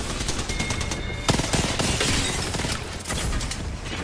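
Rapid automatic gunfire from an Apex Legends match, a dense burst of close shots with clattering impacts running almost continuously, briefly easing near the end.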